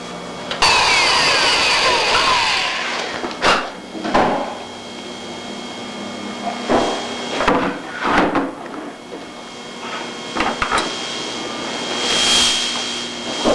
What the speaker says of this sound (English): a Dremel will do just fine for this.